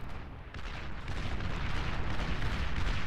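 Continuous rumbling barrage of artillery bots firing in the real-time strategy game Beyond All Reason, dense overlapping booms building slightly louder, with no voices.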